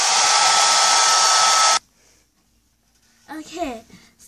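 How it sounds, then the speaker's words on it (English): A hair dryer blows a loud, steady whoosh for almost two seconds and then cuts off abruptly while it dries paint on a science fair constellation project. A voice speaks briefly afterward. "you can use a hair dryer to dry it."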